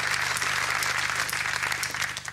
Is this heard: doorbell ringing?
no